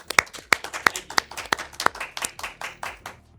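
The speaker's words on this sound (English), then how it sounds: "Please, everyone clapping." An audience claps to welcome a speaker onto the stage at a PHP developer conference, a steady patter of hand claps at moderate level with sharper individual claps standing out early, then thinning toward the end.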